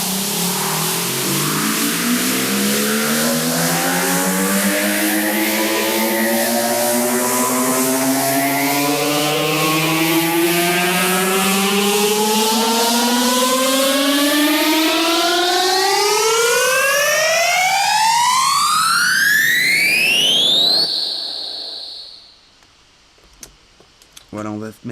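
Synthesized riser effect built in the Vital synthesizer: a dense, harmonic tone sweeps steadily upward in pitch for about twenty seconds, loud and continuous, then cuts off abruptly into near silence with a few faint trailing sounds.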